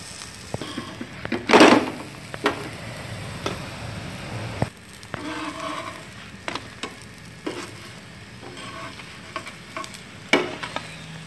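Oil-fried paratha stuffed with black chickpeas and tomato on a hot pan, with soft steady sizzling plus occasional stirring and spatula scrapes and clicks, close and alone with no talk.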